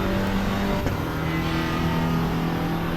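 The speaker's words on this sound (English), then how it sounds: "it sounds to me like the turbo is here" A turbocharged car engine in the Assetto Corsa EVO racing game runs at a steady drone, loud and continuous, with no talking over it.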